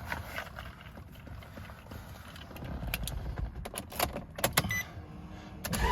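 The key of a 2007 Maserati Quattroporte is handled, giving short, close metallic jingles and clicks in quick clusters over a quiet background.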